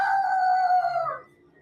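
A person at Disneyland imitates a rooster, giving a single loud, close cock-a-doodle-doo that holds a steady pitch for about a second and then bends downward and fades.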